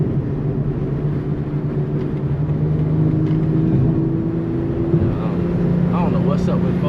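A catless BMW M340i with the B58 engine drones loud and close from inside the car, a steady low exhaust rumble whose pitch shifts as it revs, with someone talking over it.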